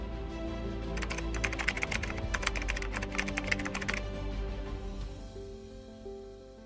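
Rapid typing on a computer keyboard while entering a driver ID and password into a train login screen, a dense run of close, crisp key clicks for about three seconds, then a fading electronic tone.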